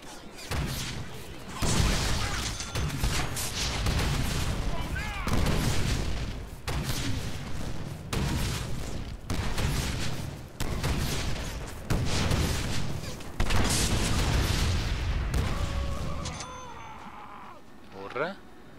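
Gunfire from a gun in the Deadpool video game rings out in repeated loud bursts and booming shots, broken by short pauses, with someone talking over much of the action.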